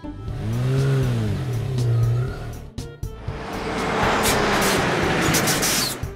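A pink toy army truck's engine revs in rising and falling sweeps, pauses briefly, then roars into a loud, rough, sustained drive with sharp bursts, with no voices present.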